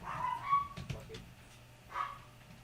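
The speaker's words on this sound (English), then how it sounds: "Maybe he's barking at the mailman." A pet dog named Tuffy gives a few short, distant-sounding yips and whimpering barks, spaced irregularly over a quiet room background.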